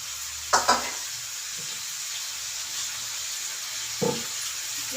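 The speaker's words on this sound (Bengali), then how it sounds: "বেগুন দিয়ে করে ভাজবে একদম তেল টানবে না" Eggplant frying in oil on a gas stove gives a steady, moderately loud hiss and sizzle, broken by a couple of brief clattering knocks.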